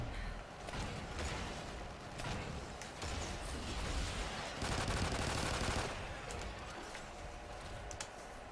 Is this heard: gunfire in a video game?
yes